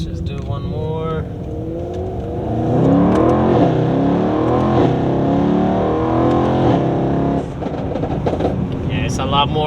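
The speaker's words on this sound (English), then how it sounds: "you hear like a lot more of the rumble of the intake on acceleration" Mercedes-AMG E63s with PTG carbon fiber intakes accelerating, a deep, swelling intake rumble that builds and holds under people talking inside the car.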